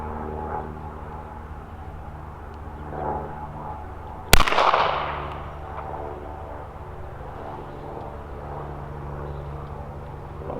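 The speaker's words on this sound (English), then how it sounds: "third shot. Let's see where it goes." A single sharp rifle shot from a Henry Model X chambered in .38 Special/.357 Magnum cracks out midway, followed by a short decaying echo over quiet outdoor background.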